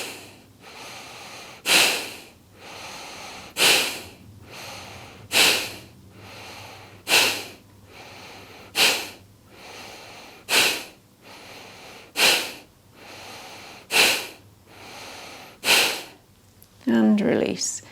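Kapalabhati pranayama breathing: about ten sharp, forceful exhalations come at a steady rhythm roughly two seconds apart, loud and close. Quieter inhales fill the gaps, and a voice is heard briefly at the end.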